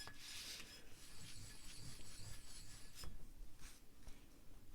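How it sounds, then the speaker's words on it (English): An ink stick is ground against an inkstone, making a steady close scraping and rubbing sound in a quiet room, continuous and fairly soft with no talking. "It takes time to grind the ink."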